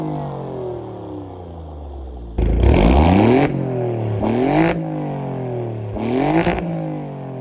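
A 2024 Alfa Romeo Giulia Quadrifoglio engine revs repeatedly, rising sharply three times over a steady idle rumble, loud and close with no voices.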